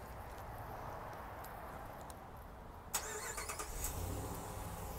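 A 2014 Ram 1500 ST is remote-started with a key fob, its engine cranking with a short burst partway through and then settling into a steady idle heard from outside over faint background noise.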